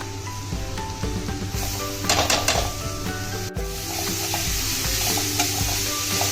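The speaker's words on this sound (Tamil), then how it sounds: "வெங்காயம் நல்லா வணங்கிருச்சு. இப்போ கேரட் போட்டுக்கலாம்." Onion and carrot stir-frying in a pan for carrot rice: steady sizzling with scraping and stirring strokes, a sharp clunk midway, no voices.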